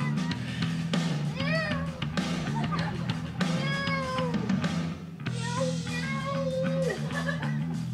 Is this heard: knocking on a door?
no